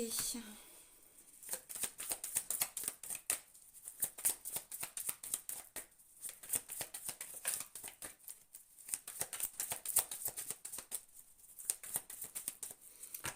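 A deck of cards is shuffled and cut close by, giving rapid papery riffles and flicks in repeated bursts with brief pauses between them.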